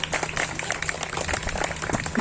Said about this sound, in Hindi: सारी टीम को एक बार जोरदार तालियां सभी के लिए।